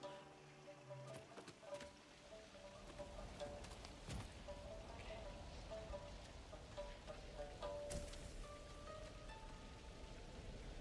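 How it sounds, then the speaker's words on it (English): Rain patters steadily in Ghost of Tsushima, a faint continuous hiss with scattered drips and light knocks throughout, no voices. "It's raining."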